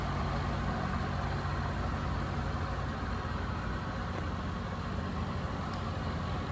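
A 2006 Cadillac XLR-V's supercharged V8 idles steadily with a low, even rumble and no change in revs.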